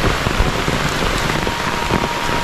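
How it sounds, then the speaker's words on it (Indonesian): Heavy rain falls steadily over a rural Indonesian village with a pretty stilt house nearby, a dense, constant hiss and patter of drops on surfaces close by, with no voices. "saya akan meliput suasana hujan ya, di perkampungan atau di pedesaan"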